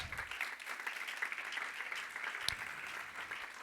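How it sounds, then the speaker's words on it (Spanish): A church congregation claps together during a sermon on baptism, a moderate, even patter of many hands that holds steady, with one sharper clap standing out. "Dale palmas."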